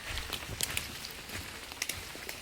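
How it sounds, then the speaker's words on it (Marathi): Rain falling outdoors near fruit trees, a soft steady patter with scattered sharper drops striking surfaces, fairly faint and continuous with no talk. "पाऊस पडतोय पाऊस."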